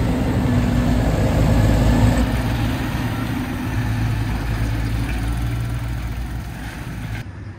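A Fendt 936 tractor engine idles near a potato store, giving a steady, loud, continuous low rumble that holds even until it cuts off abruptly at the end.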